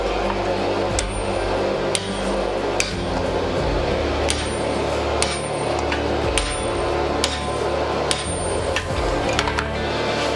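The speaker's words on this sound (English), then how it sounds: "Let's see if I can actually hammer it in." Sharp metallic hammer strikes drive a drift into forged steel for a medieval spike axe, ringing out at an irregular, steady pace over a constant background hum, close and fairly loud.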